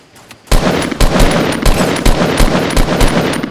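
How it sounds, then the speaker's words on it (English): Rapid gunfire in the Fortnite battle royale video game: a loud, sustained burst of repeated shots with sharp pulses roughly every half second, starting abruptly after a quiet moment, with no talk. "One guy shooting from wood."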